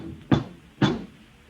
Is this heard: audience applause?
no